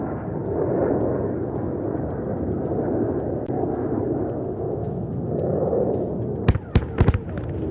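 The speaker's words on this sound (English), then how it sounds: "The fragmentation bombs have shredded the target to bits." Fragmentation bombs strike an airfield target during an Indian Air Force exercise, a rolling rumble of distant blasts building to several sharp, loud explosive cracks near the end.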